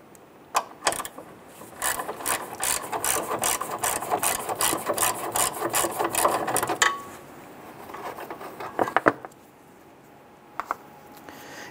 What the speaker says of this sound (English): go ahead and loosen and remove the bolt here.